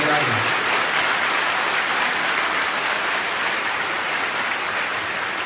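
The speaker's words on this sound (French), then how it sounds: "je vais l'applaudir" A large audience applauds at a political talk event in Toulon, with dense, sustained clapping that holds steady and loud for the whole stretch.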